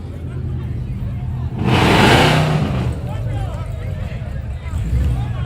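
A supercharged LSA-swapped ZL1 drag car with a parachute launches down a drag strip's right lane, a loud engine roar swelling for about a second before fading back under crowd chatter and commentary.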